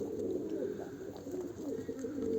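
Soft, low pigeon cooing continues steadily throughout, close by, with faint rustling in the background.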